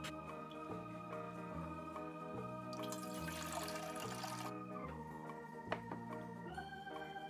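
Water trickles from a Disney princess toy teapot as tea is poured, a faint, steady liquid hiss under a tinkling toy melody with pulsing low tones, plus one small click near the end.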